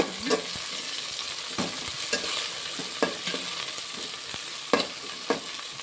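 Onions frying in a pan with fresh mint and coriander leaves, a steady sizzle broken by several sharp scrapes and clinks of a spoon stirring, close and alone with no talk.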